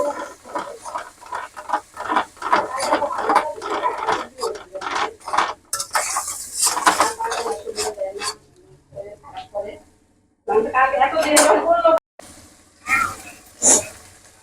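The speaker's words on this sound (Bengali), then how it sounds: "পেস্টটা ঢাইলা দিলাম এটা আমি একসাথে মিশাই নিব" An onion, garlic, ginger and green chili paste is poured into a pan and mixed, producing rapid irregular scraping and clattering strokes of a utensil against the pan, with a person talking in between.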